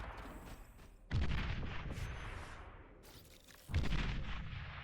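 Artillery fire from a strategy video game battle pushing units back: two heavy, rumbling blasts that swell and slowly decay into a continuous roar of distant explosions and gunfire, with no speech.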